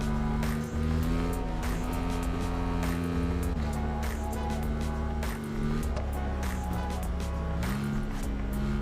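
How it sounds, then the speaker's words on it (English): Ducati V2 motorcycle engine in the racing game RIDE 5, a steady loud droning hum with shifting pitch as it accelerates, shifts and eases off, continuous throughout without talk. "now we can take it for a spin. What an awesome bike, the Ducati V2"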